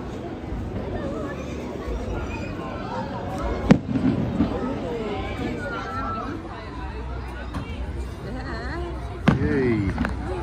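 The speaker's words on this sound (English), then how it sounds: "Look at these big fireworks," Big fireworks bursting over Clacton Pier at a seaside display, with a couple of sharp booms standing out above a steady crowd murmur and nearby chatter.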